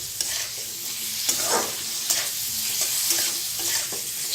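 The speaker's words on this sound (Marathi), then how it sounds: "फुलगोबी भाजायचं छान असं तेलात" Cauliflower pieces frying in oil, a close bright sizzle broken by regular scraping stirs about every half second to second, steady and moderately loud with no talking.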